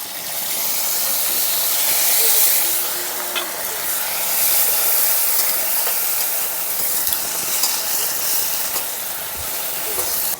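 Ginger paste and chopped green chillies sizzle in hot oil in a pan for a Bengali fish curry, a loud, steady hiss with bursts of spitting and crackle, close and continuous.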